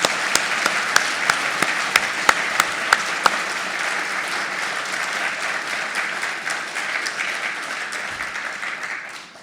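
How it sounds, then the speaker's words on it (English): A seated audience at an oration gives a final round of applause for speaker Peter Hutton, opening with a few sharp individual claps that merge into a sustained, even crowd clapping before slowly thinning out. "Can we please have one final round of applause"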